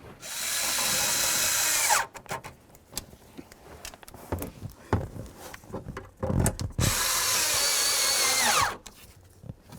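A power drill drives screws while an ignition starter switch is replaced on a 2003-07 Chevy Silverado, with two long steady whirring bursts at the start and end and short rattling, clattering handling noises between them.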